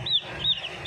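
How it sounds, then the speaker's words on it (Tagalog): Plymouth Rock and Jersey Giant crossbreed chicks give three short, high peeps in quick succession, faint and close. "Ito ay Plymouth Rock and Jersey Giant chicken."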